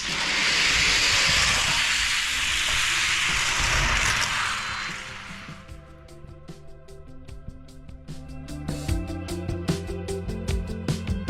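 Zuru Metal Machines diecast cars race down a plastic Hot Wheels track: a loud, steady rolling hiss for about five seconds, then a string of sharp clicks and rattles as the cars run out and settle.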